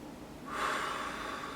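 One deep breath drawn in through the nose during a breathing exercise: a close, airy inhale that starts halfway through and swells to a steady hiss lasting under a second, with no speech.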